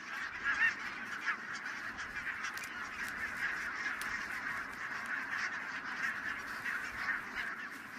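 A large flock of Greenland geese wintering on island farmland in the Hebrides keeps up a dense, continuous chorus of honking and calling, steady throughout with no talk.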